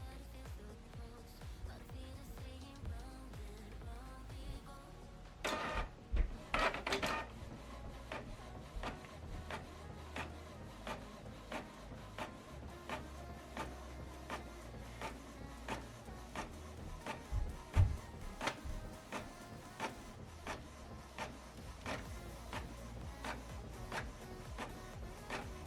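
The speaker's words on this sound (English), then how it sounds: "So the good job about this printer is the printer is able to do this automatically." Printer running an automatic double-sided print job, a long stretch of rhythmic mechanical clicks, rollers and paper feeding, with a louder burst of shuffling around the middle, close and moderate in level without speech.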